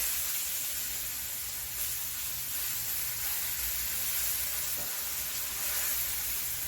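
Dense, steady sizzling of pork chops frying in a hot pan, close and continuous, with no talking.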